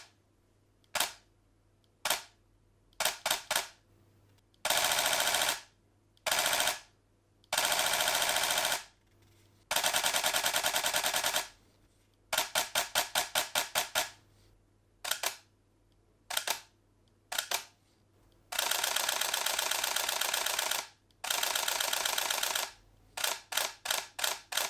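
A Canon EOS 1DX Mark III fires its shutter in repeated bursts, rapid mechanical clicks in clusters of varying length separated by short silences, close and crisp with no voices.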